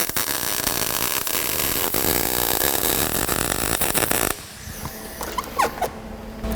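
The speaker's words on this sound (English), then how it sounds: "I have to turn the welder on before I pull the trigger" Welder laying a bead on an O2 sensor bung on a truck: a loud, steady crackling buzz for about four seconds that cuts off abruptly, followed by quieter clicks and faint clatter.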